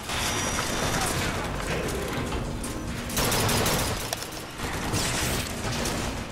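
Rapid, continuous gunfire in Bioshock Infinite, dense and loud. Gear-like clatter and bangs run unbroken throughout the shooter's firefight, with no talk over it.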